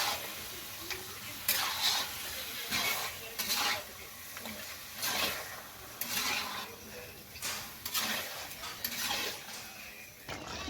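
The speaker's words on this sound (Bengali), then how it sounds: "এবার মাংস আর মশলা এবার আমি কষতে থাকবো" Chicken meat being fried down with spices for a country-chicken kosha, with repeated spatula scrapes and stirring strokes against the pan over a steady sizzle at close range. No one talks.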